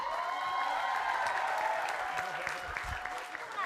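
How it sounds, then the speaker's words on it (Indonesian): Studio audience applause on an Indonesian comedy game show, a steady wash of clapping with some talk mixed in, fading slightly toward the end. "Tepuk tangan dulu yang Mbak Ayu, meriah"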